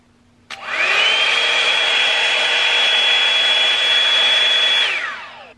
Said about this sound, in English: So this is what the Drybar sounds like on high.